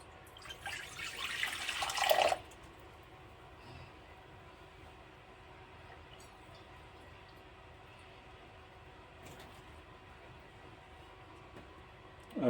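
Water splashes into a bowl in a short, close pour lasting a couple of seconds, followed by quiet room hiss.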